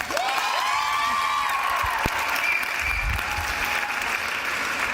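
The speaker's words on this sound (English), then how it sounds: "think that was a rousing round of applause?" Sustained applause from an audience of fraternity and sorority members fills a room evenly and steadily, with a few faint whistles and shouts rising over the dense clapping.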